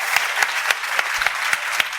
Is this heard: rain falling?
no